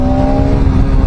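A 200cc motorcycle engine on the road to Kerala drones loudly and steadily up close, with a strong, even buzzing hum that holds without a break.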